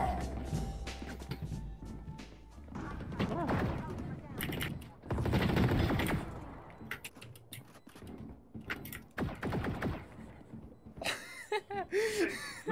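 Rapid gunfire in Valorant shoots down a wall, bursts of loud sharp shots coming in clusters amid game effects, with a voice talking over them.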